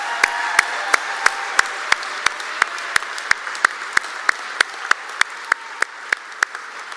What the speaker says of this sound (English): Should we all clap for them all again, one more time?